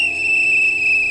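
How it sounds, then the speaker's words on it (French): A single sustained, shrill whistle blast, steady and piercing, blown to call for help, holding one pitch for the whole second with no voices. "Il faut donner un coup de sifflet, je vous assure."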